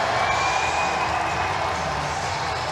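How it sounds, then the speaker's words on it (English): An indoor crowd roars steadily through a bare-knuckle fight between Columbus River Dragons and Athens Rock Lobsters players, a continuous wash of cheering with faint scattered claps. "that gets the crowd here fired up"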